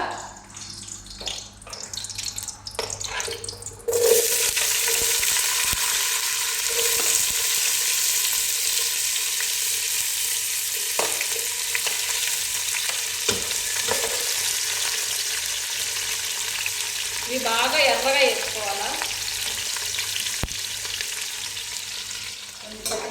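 Whole spices, cinnamon and cloves among them, frying in oil in a pan for fish biryani, starting with a sudden loud sizzle that holds steady close up, with stirring scrapes and clinks throughout.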